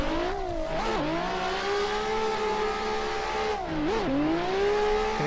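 A 1000+ horsepower Nissan S15 drift car held at high, sustained engine revs, loud and close, with brief dips and re-climbs in pitch as it transitions, steady and unbroken for the whole run without talk.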